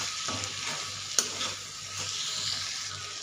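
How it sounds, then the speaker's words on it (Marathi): Steady sizzling of ridge gourd sabzi frying in a pan as crushed peanut powder is stirred in, with scraping spoon strokes over the continuous hiss, close and with no talk. "शेंगदाण्याचा कूट घातल्याच्या नंतर आपण मिक्स करून घेऊया।"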